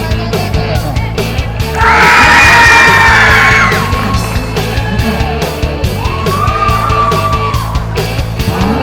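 A loud parade crowd of basketball league fans erupts in a sustained yell and whoop. Cheering and shouting carry on at length in a dense wash of voices, with scattered clapping.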